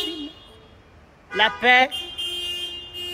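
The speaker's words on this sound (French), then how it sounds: "Vous arrêtez de klaxonner!" Car horns honk in a Paris street with a short burst of blaring, then a steadier sustained honk, while a voice briefly speaks over them.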